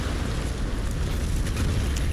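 A large explosion in the video game Tomb Raider (2013), heard as a dense, loud rumbling roar with crackling debris that continues steadily without speech.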